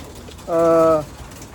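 A racing pigeon gives a single short, close coo, a clear half-second call over quiet background noise.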